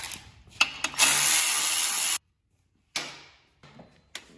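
Removing the cover over the muffler on a Kohler 7000 Series engine makes short metallic scrapes, clicks and rubbing bursts close by, broken by a brief silent pause, with no voices.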